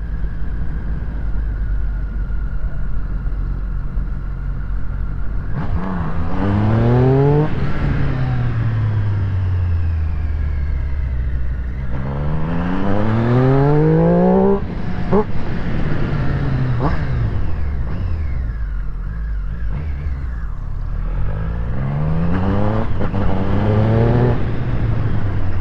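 A Triumph Street Triple 765 motorcycle engine idles with a steady rumble, then revs up in several sharp bursts that climb and fall back, loud and close throughout.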